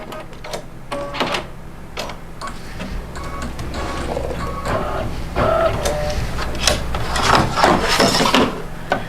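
Embroidery machine tying off a knot, a close run of rapid mechanical clicks and taps with uneven rhythm, growing slightly busier toward the end.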